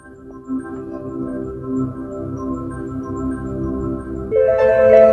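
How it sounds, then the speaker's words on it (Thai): A soft synthetic hum of layered steady tones drones along, then shifts to a brighter, higher chord near the end; the low-speed pedestrian warning sound of a Deepal S07 electric car. "เป็นเสียงแจ้งเตือนคนเดินถนนที่ความเร็วต่ำนะครับ ก็คือเป็นเสียงสังเคราะห์"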